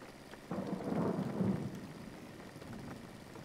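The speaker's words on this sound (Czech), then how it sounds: "Blesk jsem teda neviděl. Ale hromy slyším." Thunder from a rainy thunderstorm in the driving game Jalopy swells into a soft, distant low rumble lasting over a second, then fades into a faint steady hiss of rain.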